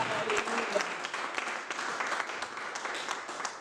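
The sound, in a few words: congregation applauding in church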